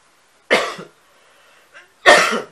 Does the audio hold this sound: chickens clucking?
no